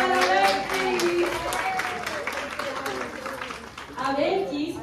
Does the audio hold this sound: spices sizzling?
no